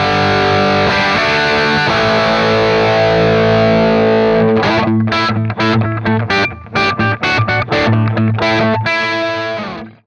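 Electric guitar through a Marshall Plexi Kemper profile with a clean boost from a graphic equalizer, loud and crunchy: sustained distorted chords ring out first, then give way to tight, choppy rhythmic strums with short stops between hits.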